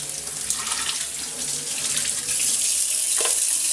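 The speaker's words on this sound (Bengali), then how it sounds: "এটা সার সাথে ঠান্ডা পানি দিয়ে ধুই ফেলবেন যেন সিদ্ধ না হতে পারে" A kitchen water tap runs steadily as cooked potato wedges are rinsed under cold water, a close, bright hissing splash that grows slightly louder near the end, with no talking.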